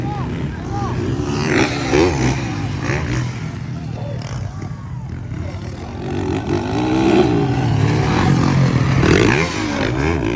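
Motocross motorcycles race in a pro open event at San Fernando, engines droning and revving through the whole stretch under steady commentary, with rising and falling whines as bikes pass at mid distance.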